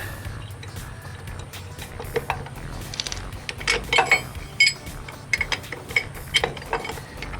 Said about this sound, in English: All right, now we're gonna pull that drum off.